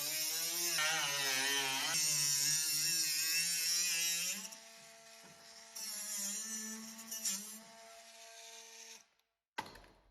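A very small 12-volt power cutter slices through a car body panel, a loud high whining buzz with wavering pitch that runs for several seconds, drops in strength, surges again briefly, then cuts out.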